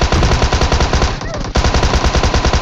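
Rapid automatic gunfire in a multiplayer battle video game as a bot is killed, dense repeated bursts that are loud and close, with a brief pause midway before firing resumes.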